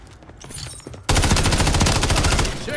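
Automatic gunfire in the video game Modern Warfare III bursts in suddenly after a quieter lead-in, then rattles as a rapid, loud, continuous stream of shots that fills the rest of the moment.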